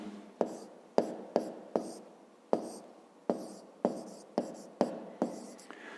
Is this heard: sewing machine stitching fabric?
no